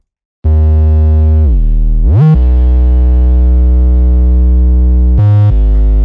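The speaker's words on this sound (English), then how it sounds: "let's link after the Wave Shaper to Fruity Reverb and then out to FL Studio" A loud, buzzy, distorted synth tone from FL Studio's Wave Shaper into Fruity Reverb holds and swoops up and down in pitch, with a reverberant wash and no other sounds.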